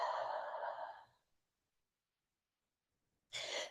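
A deep exhaled breath during a yoga session, a long soft breathy release close by, followed by silence and then the start of another breath.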